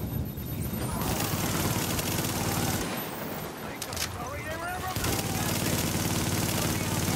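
Gunfire in a video game, Tomato Team: Rogue Chronicles: dense, continuous crackling bursts of shots fill most of the clip, easing briefly in the middle, with players talking over it.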